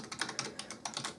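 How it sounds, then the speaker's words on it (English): A password is typed quickly on a computer keyboard, a close, light patter of separate key clicks in short irregular bursts, with no voices. "So in my case, I'm just going to quickly type the password."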